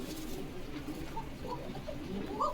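Pigeons cooing at a pigeon farm in Bogura, several soft overlapping coos close by over a continuous low rumble of background noise, with no talking.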